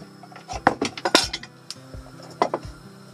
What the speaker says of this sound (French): On va mettre la table maintenant.